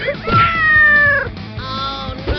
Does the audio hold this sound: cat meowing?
yes